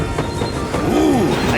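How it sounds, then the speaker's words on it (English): A cartoon train pulls in from a children's soccer animation, a short burst of rumbling with a rising and falling squeal of brakes over a dense mechanical din. "our train is here."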